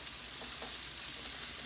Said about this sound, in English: You can hear my chicken is sizzling.